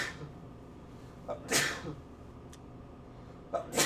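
A person sneezes at close range: one sharp, breathy sneeze, a smaller burst a couple of seconds later, then another short sneeze near the end, over quiet room noise.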